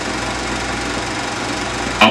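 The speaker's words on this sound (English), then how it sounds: "Power shift wheels are another plus feature of the WD-45." Allis-Chalmers WD-45 tractor engine running at a steady, even drone throughout, with a brief sharp clank right at the end.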